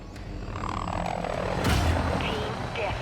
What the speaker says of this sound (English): Same helicopter noise, but that's fine.